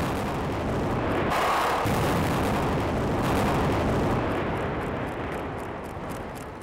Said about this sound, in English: the caps went off first. Then, starting from the far end of the bridge, the real explosions marched down the line.